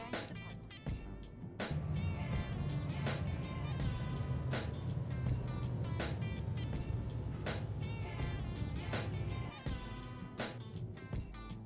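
A shuttle departing in the video game Star Citizen produces a steady low mechanical hum with a series of sharp, evenly spaced clicks and clunks over it, loud and near.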